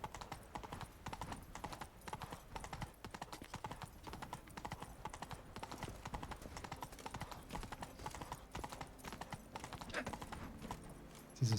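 Roach the horse's hooves clip-clopping in The Witcher 3: Wild Hunt, a steady rhythmic gait of fairly quiet, even hoofbeats heard on their own throughout.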